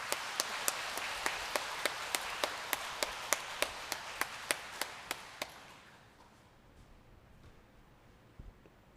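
A church congregation welcomes a newly ordained Jesuit priest at his first Mass with rhythmic, unison clapping, about fifteen evenly spaced claps that stop sharply, leaving a quiet, reverberant hall.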